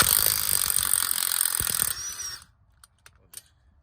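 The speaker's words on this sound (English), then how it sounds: "I'm just gonna slide a ratchet wrench back in there" A power tool or ratchet spinning out 15 mm strut bolts on a GMC Yukon, a loud continuous whirring buzz that cuts off, followed by a few faint clicks and clanks.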